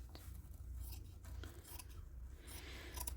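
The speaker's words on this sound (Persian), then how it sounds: "از همینجا قیچی میکنم که مچم 2 تا بشه" Scissors snip through knit fabric being cut in two to make a cuff for a lined leather raincoat with an attached hood, giving a few soft, close crunching cuts over faint room noise.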